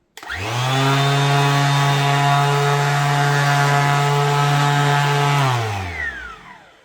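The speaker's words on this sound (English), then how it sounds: "The orbital sander. Get the job done quick, maybe not quietly." A Ryobi orbital sander spins up, runs at a loud steady whine with a strong buzzing hum for about five seconds, then winds down to silence, heard alone at close range.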